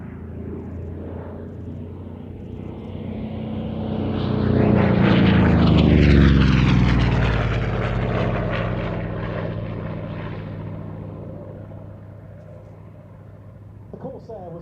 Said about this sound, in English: this is actually a license-built version of the Borg Corsair, built by the Goodyear Corporation in America.